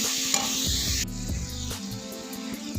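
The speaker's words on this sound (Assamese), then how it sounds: "গোটেইখিনি এতিয়া মই ভাজি ল'ম" Tomato, carrot, beans, pumpkin and squash frying in a pan, a loud, close, continuous sizzle with stirring scrapes, briefly fiercer then settling to a lower hiss.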